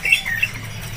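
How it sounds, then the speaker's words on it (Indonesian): A small pare-pare bird at a bird market gives a couple of quick, scratchy squawks close by, brief and sharp against a quiet background. "kasih penampakan buat burung pare-pare"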